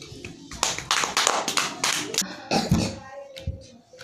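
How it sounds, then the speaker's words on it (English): Hands clap in a classroom, a burst of several quick, fairly loud claps with a voice briefly mixed in, fading toward the end. "Clap."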